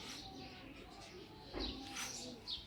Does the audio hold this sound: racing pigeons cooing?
yes